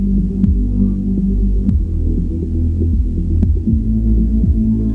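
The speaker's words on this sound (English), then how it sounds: "the Bax EQ comes in, and it just shelves off some of the bass I didn't want, making the kick tighter for more club" Kick drum and bass line in a club-oriented mix with EQ shelving off the low end, giving deep, throbbing low thumps that repeat steadily under a sustained bass drone, with no voices.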